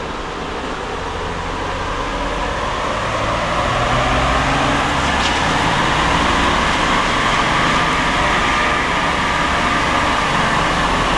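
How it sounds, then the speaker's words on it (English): A Ford F150 with the 3.0 Powerstroke diesel in seventh gear pulls on a dyno from 1500 RPM up to redline, a loud steady broadband roar that swells gradually and holds throughout. "We're going to start the pull at 1500 RPMs and go to red line, right about there."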